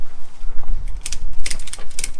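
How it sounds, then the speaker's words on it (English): A ratchet strap wrapped around a motorcycle's rear footrest brackets is wound tight, giving several quick, loud bursts of clicking ratchet teeth close by, with short pauses between. "you get a ratchet strap and you wrap it around the rear footrests, the brackets for those, and then you just wind it in"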